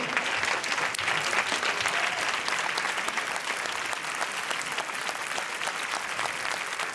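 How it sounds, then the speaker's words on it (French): Audience applause in a Cannes festival theatre as the film team of En Guerre enters, a dense, steady clatter of clapping from a large crowd that fills the whole stretch at even loudness. "Vincent Lindon qui applaudit son réalisateur"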